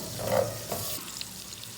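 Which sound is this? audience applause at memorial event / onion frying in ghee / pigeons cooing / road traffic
onion frying in ghee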